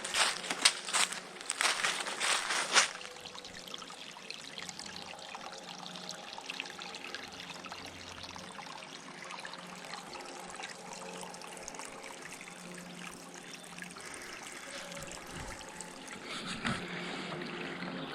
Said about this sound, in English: you can see this little stream running here. Alright, it's flowing pretty good.